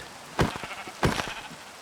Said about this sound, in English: And let me go kill the sheep.